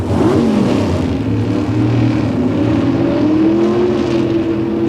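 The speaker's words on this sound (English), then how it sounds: "The RPMs come up for the start of this first race in round 2" Ford and General Motors drag racing cars at the 1993 NHRA Mile-High Nationals at Bandimere Speedway, engines held at high revs on the start line, a loud continuous droning roar with slight rising pitch.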